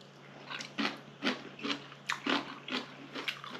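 Close, quiet chewing of kimchi with Korean sundae soup, a series of crisp crunchy bites in an uneven rhythm over a low steady background hum.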